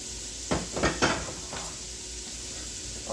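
Vegetables cooking in unsalted butter in a pot for cheeseburger soup, giving a steady close sizzle with a few scraping stirs early on.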